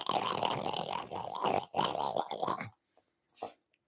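A dog grunting and snorting like a pig: a close run of rough, growly grunts in bursts over about two and a half seconds, then quiet with one short snort near the end.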